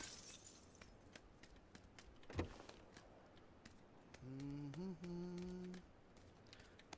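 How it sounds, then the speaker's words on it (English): Window glass shattering in PUBG on the Miramar map, a single sharp crash near the middle, with faint clicks around it and a short droning tone afterward. "That was me breaking through the glass."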